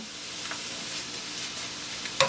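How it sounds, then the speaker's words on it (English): Food sautés in a pan over medium heat with a steady moderate sizzle and faint stirring scrapes, close by, ending in a brief sharper clink, no voices. "I just have this on medium heat, and I'm just going to saute it"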